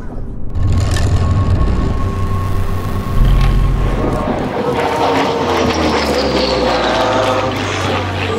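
Propeller aircraft from the Montélimar fighter museum flies past at the Biscarrosse Flying Spirit 2016 air show, a loud steady drone that rises and shifts in pitch as it passes, with voices talking underneath.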